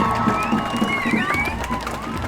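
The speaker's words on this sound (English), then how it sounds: "The crowd erupted." A crowd at a night-time award ceremony cheers and applauds a winner, a sustained, dense roar of voices with whistles and clapping running throughout at fairly close range.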